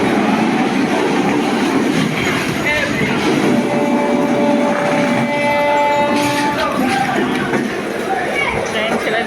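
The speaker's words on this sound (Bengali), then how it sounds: "ট্রেন ছেড়ে দিল।" A commuter train pulls out of Sealdah station, bound for Taki via Basirhat, with steady rumbling carriages, rail clatter and a faint wheel squeal, while voices chatter throughout.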